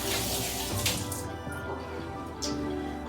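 Hands rinsed briefly under a running kitchen tap, a steady broadband wash of flowing water with small splashes and drips, close and continuous throughout.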